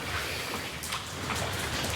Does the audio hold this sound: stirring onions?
no